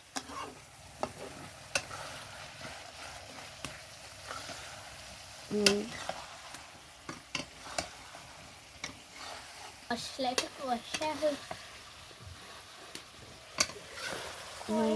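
Meat sizzles gently in a pan while a spoon stirs and scrapes it, with soft clinks and taps breaking through the quiet frying at irregular intervals.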